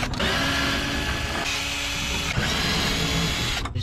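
A power torque driver spins out two screws from a truck taillight, a continuous close whirring buzz with a short pause and change in pitch partway through, no talking.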